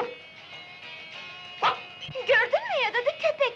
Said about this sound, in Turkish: Gördün mü ya dadı, köpekmiş.